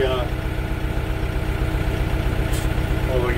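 TYM 654 tractor engine idling nearby in a snowy setting, a steady low rumbling throb that continues evenly throughout.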